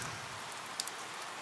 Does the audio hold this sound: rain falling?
yes